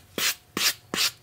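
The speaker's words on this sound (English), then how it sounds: "I'm just dragging my sanding block across that ever so gently" Three short rasping strokes of a sanding block gently dragged across a sharp edge, evenly spaced and close, each a brief gritty scrape.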